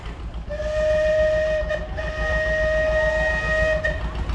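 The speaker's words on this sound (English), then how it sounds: "now you guys can sort out however you want to go about blowing your whistles, but we'd like to hear them" Steam tractor whistles blow at a steam power show parade in Sycamore, Illinois, one sustained shrill tone held for several seconds with a brief dip, loud and fairly close over a steady low background rumble.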